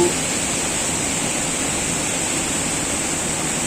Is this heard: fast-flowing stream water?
yes